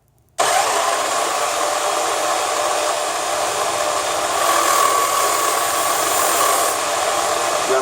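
An electric wheel knife sharpener switched on abruptly and running at a steady high-pitched whine while a Japanese knife is drawn through the wheels, with a slight grinding change in tone midway.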